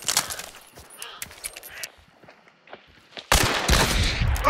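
Gunshots in the game Hunt: Showdown: a few sharp close shots early, a quiet stretch with soft movement, then a loud sudden blast near the end.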